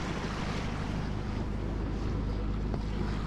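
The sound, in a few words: boat engine running while sailing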